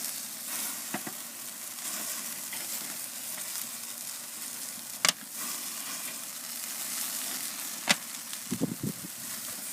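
Bacon ranch cheeseburgers and onions cooking on a charcoal smoker grill, a faint, steady sizzle with a few sharp pops and clanks, heard outdoors without talk.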